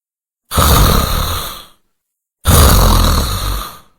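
A man in a cartoon snores loudly at night, two long rasping snores separated by a short silence, close and alone.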